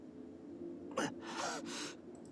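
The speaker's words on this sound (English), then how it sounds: "I let out a gasp." A single sharp gasp, a quick intake of breath followed by a breathy exhale, quiet and close.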